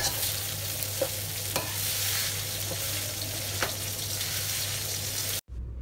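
Rice is crushed and stir-fried in a wok with a large ladle for fried rice, giving a steady sizzle with a few scraping knocks of the ladle, close and alone, before it cuts off abruptly at the end.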